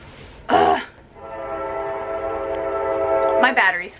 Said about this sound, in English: Really? Train?